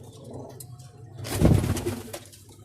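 Pigeons coo in a loft, their low throaty calls starting faintly and then swelling into a loud burst of cooing near the middle before trailing off, with rustling in the background.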